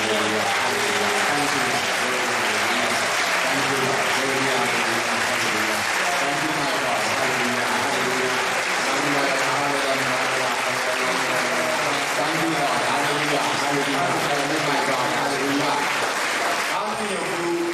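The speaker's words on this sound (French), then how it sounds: "Give an applause to Jesus." A church congregation claps steadily and together for close to eighteen seconds, a dense and sustained burst of applause with a few voices calling out beneath the clapping.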